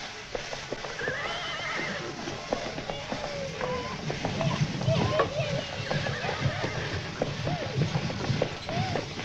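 Horses whinny and hooves clip-clop near a train in a Mexican film scene, the neighing rising clearly over the hoofbeats while people shout and talk throughout.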